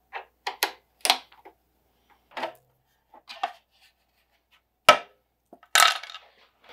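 Cover bolts being loosened and removed from a DeWalt DW735 planer, heard as sparse, sharp metallic clicks and ratcheting taps spaced irregularly across a quiet background, close and fairly faint.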